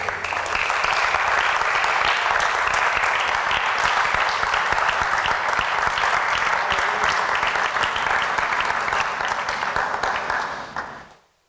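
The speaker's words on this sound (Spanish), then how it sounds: "Porque no le aplaudes al rey" A congregation claps loudly and steadily, a dense roar of many hands sustained for about ten seconds before cutting off abruptly.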